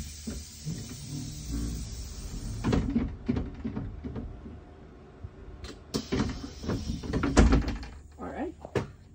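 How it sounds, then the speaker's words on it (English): Bus doors opening from inside the vehicle, with a series of pneumatic thunks and mechanical clunks near the mic, mixed with background chatter and engine rumble. "so this is how the doors open"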